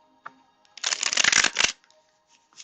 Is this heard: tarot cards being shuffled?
yes